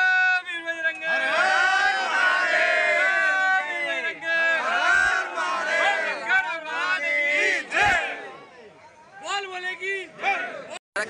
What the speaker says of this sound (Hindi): कितनी भीड़ लगी हुई है